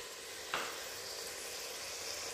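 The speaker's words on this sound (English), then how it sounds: "Right now we saute our onions." Onions sauté in a pan for beef stew, giving a faint, steady hiss with one brief scrape or clink near the start; no voices.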